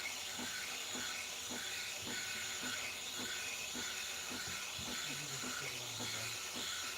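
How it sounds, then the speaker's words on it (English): A coffee machine hums and hisses steadily in a room, with faint rhythmic clunks and low murmuring voices in the background. "it'll be a bit different with the coffee machine going on and everything"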